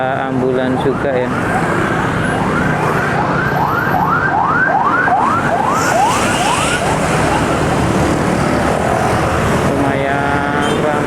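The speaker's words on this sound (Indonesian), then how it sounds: "Ada ambulan juga ya." A wailing ambulance siren sweeps up and down repeatedly amid busy street traffic noise, fairly close, fading out after several cycles.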